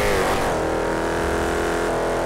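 A car engine revs hard under turbo boost in GTA 5, a loud sustained roar with a rising tone that holds steady, close and dense with no voices over it.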